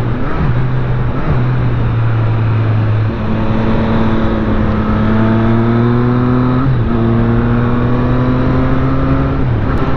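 A 2018 Triumph Street Triple R 765 triple-cylinder motorcycle being run in drones loudly at steady, modest revs while riding, its pitch rising through each gear and dropping briefly at shifts under constant wind roar.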